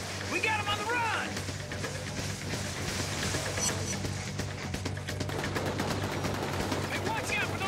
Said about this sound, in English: Hey, watch out for those machine guns.